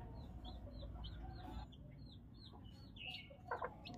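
Chickens cluck repeatedly inside a bamboo coop while being fed rice, short rising calls coming in a steady series over a low rumble of background noise.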